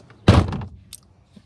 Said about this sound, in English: I'm gonna have to close the door once they get out.